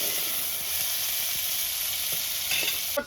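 Tomatoes and green peas with turmeric fry in a pan, giving a steady close sizzle and hiss with soft stirring clatter, and no voices over it.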